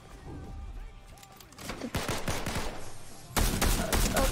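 Rapid gunfire bursts in a shooter video game, a quick string of sharp cracks followed by a louder, denser volley near the end, close and forceful.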